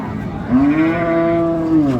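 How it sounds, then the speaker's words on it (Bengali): A single loud, close moo from a cow at a cattle market, a long low drawn-out call with a slight rise at the end. "এখানে চমৎকার গাভী বাছুর দেখছেন বেলাল ভাই"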